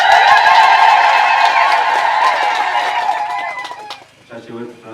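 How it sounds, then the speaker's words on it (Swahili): Women ululating together in celebration as a house is dedicated, a shrill, sustained trilling chorus held close and loud for several seconds before fading out, with voices and crowd noise rising at the end. "Ongeza vigelegele tena vizuri."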